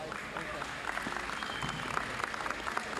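An audience at a 1973 Drug Free America evening event in Washington, DC applauds steadily, a dense patter of many hands clapping at moderate volume, with scattered voices in the background.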